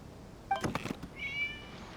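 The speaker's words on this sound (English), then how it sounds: "It was just a cat." In the video game Genshin Impact, a cat gives a short, close, fairly faint meow, followed by a brief higher chirping tone.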